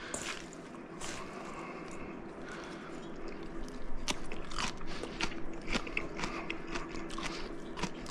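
Someone chews a mouthful of Thai grilled steak salad up close, a steady run of soft crunching and wet mastication noises with no talk.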